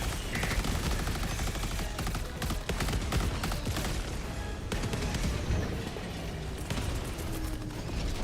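Sustained gunfire from the video game Helldivers 2 during a dropship landing and extraction, with dense bursts of automatic fire and explosions continuing steadily and loudly throughout.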